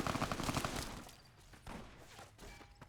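Gunfire in Fallout: New Vegas, a burst of rapid shots up front followed by scattered, more distant pops and thuds.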